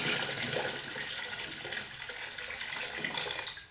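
Cold tap water runs steadily into a canning tank holding submerged glass jars, a continuous broadband splashing and gushing flow that stays fairly even throughout, with no voices.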